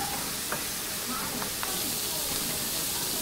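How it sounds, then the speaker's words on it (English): Chopped onions sautéing in low sodium vegetable broth in a pan, a steady soft sizzle and hiss with a few faint utensil taps. "I chopped up the 2 onions and I'm just going to saute that until it cooks down a little bit"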